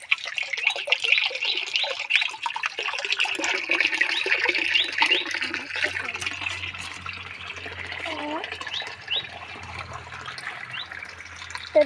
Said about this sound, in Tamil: தொட்டியில் தண்ணி போயிட்டு இருக்குது.